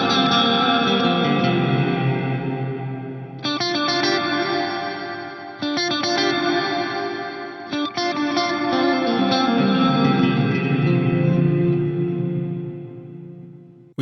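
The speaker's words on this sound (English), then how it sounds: "that actually delays the Glitz Reverb completely by 200 milliseconds" An electric guitar plays through the Glitz reverb on a Line 6 POD Go, set to maximum pre-delay of 200 milliseconds, so each chord blooms into a long, shimmering wash of delayed, swirling ambience.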